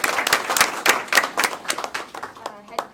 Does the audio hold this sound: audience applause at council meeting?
yes